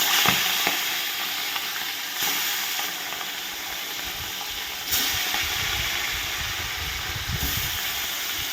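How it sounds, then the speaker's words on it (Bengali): Bata fish fry in hot white oil in a wok with a constant crackling sizzle, close and fairly loud. A few faint clatters and a burst or two of spitting oil rise above it, and no one talks. "এবার আমি একটা একটা করে মাছগুলো ভেজে নেব"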